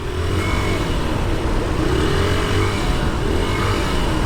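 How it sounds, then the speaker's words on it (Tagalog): City road traffic on the way from Manila to Pasay, a steady close drone of engines with motorcycles and cars idling and revving in congestion. "traffic talaga dito"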